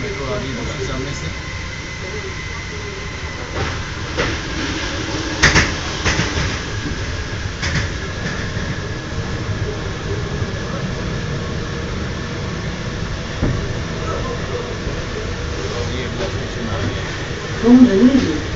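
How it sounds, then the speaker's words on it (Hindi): A driverless Paris metro train arrives from the far side of the platform as a low rumble and hiss that swells and fades beneath station ambience, with occasional clunks and people talking. "मेट्रो आ रही है दूसरे सामने से।"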